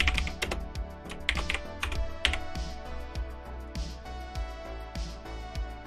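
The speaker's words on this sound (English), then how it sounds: "let's go ahead and type down this challenge" Steady, rapid typing on a computer keyboard, close and fairly quiet, with clustered key clicks and occasional louder strikes and no talking.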